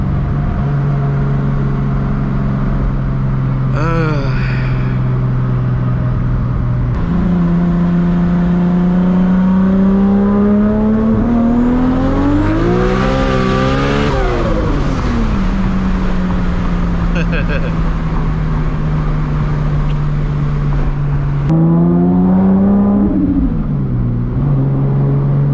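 A modified MK4 Toyota Supra with over 1000 horsepower hums steadily, then revs up, its pitch climbing and falling back before a second short rev near the end; close and fairly loud.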